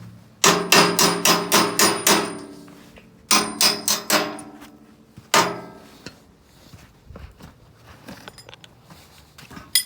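Hammer tapping parts into place while assembling a personal trail groomer, sharp metallic strikes in quick bursts of several blows, then a few isolated single taps with pauses, close and loud.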